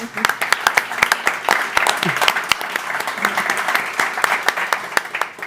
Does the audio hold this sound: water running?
no